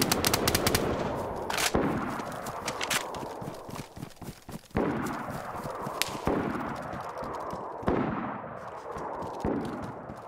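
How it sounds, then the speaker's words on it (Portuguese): Gunfight in the video game DayZ with an M16A3 in play, bursts of rapid automatic fire and scattered single shots, some close and loud and others more distant, echoing between buildings, no talking. "aqui o tiroteio tá comendo aqui"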